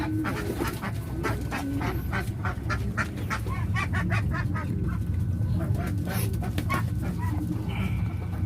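Ducks being fed soya, a flock quacking and honking in repeated busy calls close by, with rustling and a voice in the background.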